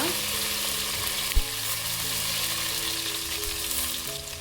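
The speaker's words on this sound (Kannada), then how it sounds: "ಟೊಮ್ಯಾಟೊ ಸಾಫ್ಟ್ ಆಗೋ ತನಕ ಇದೇ ಎಣ್ಣೆಯಲ್ಲಿ ಟೊಮೆಟೊನ ಚೆನ್ನಾಗಿ ಹುರ್ಕೋಬೇಕು" Tomatoes frying in hot oil in a pan on a medium flame, giving a steady close sizzle and crackle with a brief stir or clatter midway, and no talking.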